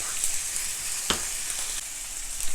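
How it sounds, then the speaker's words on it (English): Pork frying in a pan sizzles with a steady, close hiss and one sharp pop partway through, while ramen boils in a pot nearby; no one speaks. "So we have our pork here on the pan cooking"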